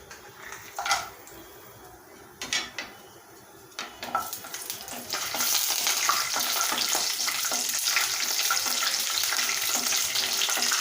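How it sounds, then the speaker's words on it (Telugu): Cashews frying in hot oil for a mushroom curry, a few light stirring clinks early, then the sizzle swells into a steady, loud crackling hiss that continues without talk. "జీడిపప్పుని లైట్ బ్రౌన్ కలర్ వచ్చే వరకు ఫ్రై చేయండి."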